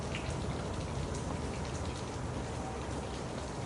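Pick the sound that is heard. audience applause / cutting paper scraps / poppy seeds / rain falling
rain falling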